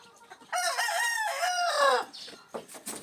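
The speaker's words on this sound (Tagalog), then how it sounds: "Iba pa mga cockerels." Cockerels crow loudly and close by, one long crow followed by shorter clucks and a fainter crow in the distance, with no talking.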